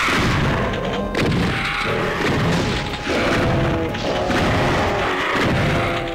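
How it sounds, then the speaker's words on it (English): Heavy booming blasts in Doom 3, shotgun fire amid a dense, loud din of thuds and crashes that rolls on almost continuously. "There, I got him with the shotgun"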